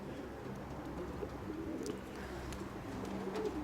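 Pigeons coo softly in repeated low, rolling calls, fairly close and steady against a quiet background, with no voices.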